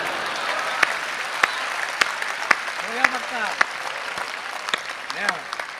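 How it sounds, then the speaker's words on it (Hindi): An audience at a Hindi kavi sammelan poetry gathering claps steadily in a dense, sustained wash, while someone speaks over it with short exclamations cutting through. "तालियां दे दो, तालियां दे दो, तालियां दे दो।"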